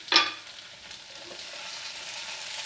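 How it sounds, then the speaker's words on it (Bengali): Potato and eggplant curry is stirred in a pan: a sharp scrape at the start, then a soft, even sizzle that carries on alone. "হালকা হাতে এরকম করে নাড়বেন"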